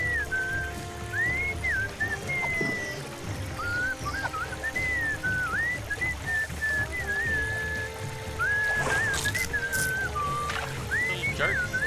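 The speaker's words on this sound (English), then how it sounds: "What is that enchanting whistling sound?" Enchanting whistling in the adventure game Sam and Max: Beyond Time and Space, a wavering melodic whistle in short phrases repeating throughout over a soft ambient background.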